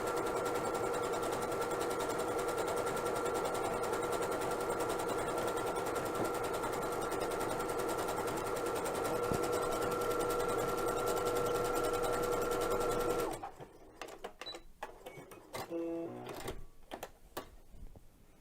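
Sewing machine running an overcast stitch along the edge of thick pre-quilted fabric, a steady, loud, fast mechanical whir for about thirteen seconds, then stopping abruptly and leaving a few faint clicks and handling noises.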